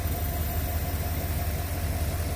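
A 1957 Ford Thunderbird V8 with new electronic ignition and a freshly tuned carburetor runs at a steady idle, a continuous low rumble with even vibration and no talking.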